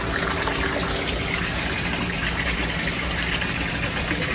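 Steady rushing, bubbling water from a pet store aquarium, constant and fairly loud with no pauses.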